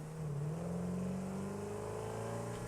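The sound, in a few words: car engine revving in video game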